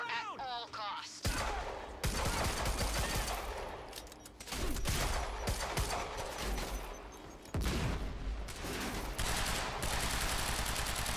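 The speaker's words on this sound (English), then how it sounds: "I love how we're just all shooting around this time machine" Heavy gunfire from the video game Quantum Break, with dense bursts of automatic fire and loud booming shots near and continuous, set around a time machine, with brief pauses and some speech mixed in.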